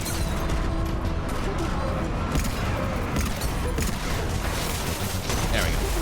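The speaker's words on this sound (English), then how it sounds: "oh well, explosions are also good" Explosions and gunfire from a combat scene in the video game Mass Effect 3 form a dense, loud barrage of bursts and booms, with a voice talking over the noise.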